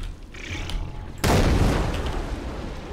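An explosion in the video game Far Cry 3 Blood Dragon, a sudden loud boom after a second of quieter game sound, followed by a long rumbling decay.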